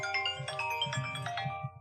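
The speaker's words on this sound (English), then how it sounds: "I'm getting an unsolicited phone call." An incoming-call ringtone plays, a bright chiming melodic pattern of repeated tones with a low rhythmic pulse beneath, fairly close and clear with no talking.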